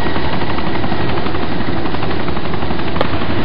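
A helicopter engine runs in the ArmA 2 video game, a steady loud whirring rotor and turbine drone holding constant throughout with no talk.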